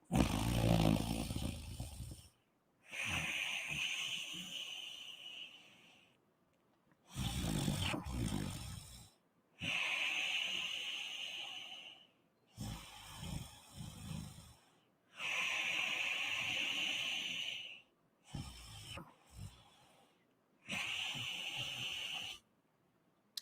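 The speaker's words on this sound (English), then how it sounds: "This is how you breathe in Ujjayi if you did not get it." Ujjayi breathing during a guided breathing session: slow, audible throat breaths with a soft hissing, snore-like rasp, repeated about seven times in long drawn strokes separated by short pauses, close and with no talking.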